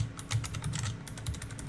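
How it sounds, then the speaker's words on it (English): Quick clatter of fingers on a computer keyboard, a rapid irregular run of light key clicks, close by and fairly quiet, with no talking. "Warning, typing is happening right now."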